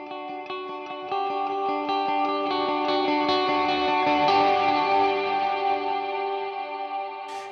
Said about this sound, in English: effects-wise, super washy reverb and eighth note delay